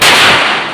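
A single loud gunshot fired on a film set, a sharp close blast that decays over under a second, heard alone.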